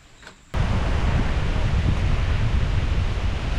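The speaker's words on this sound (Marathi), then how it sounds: "जोरदार वारा आता सुटलेला आहे." Strong wind sweeps across the hill at the foot of Manikgad fort. A dense, loud roar begins abruptly after a brief quiet moment and then holds steady.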